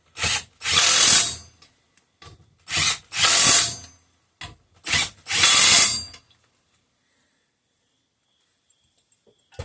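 An impact wrench hammering on a socket during an air compressor pump repair, four loud close bursts of rattling impacts with short gaps, then silence.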